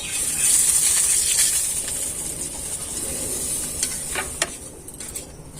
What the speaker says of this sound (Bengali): সুজিটা দিয়ে ভেজে নেবে।